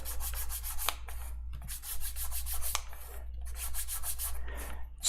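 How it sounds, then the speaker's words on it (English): Rhythmic back-and-forth scuffing of an edge to rough up the surface before painting or gluing, steady rasping strokes in three runs of quick bursts, close and fairly loud over a low constant hum, no talk. "Scuffing it up like this is also a good thing for when you're going to paint or adhere stuff to it"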